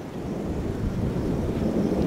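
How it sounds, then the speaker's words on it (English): A thunderstorm rolls overhead near Mesa Verde in the Four Corners area of Colorado, a constant low rumble of thunder mixed with wind buffeting the microphone and possible rain, steady and loud throughout. "We've got a heck of a little storm going over us right now"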